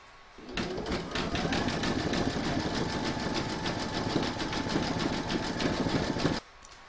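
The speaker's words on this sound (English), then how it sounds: "Pop your hoop back into your machine and stitch round number 10, and that's going to zigzag along this join." An embroidery machine zigzag stitching an applique join on a large sloth design, starting abruptly into a loud, steady, rapid needle chatter that runs for about six seconds and then stops sharply.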